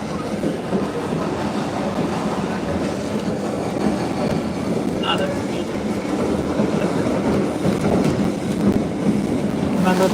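The 1880 Train on the Black Hills Central Railroad rumbles along continuously, a loud, dense rolling roar of cars on track, with people talking underneath.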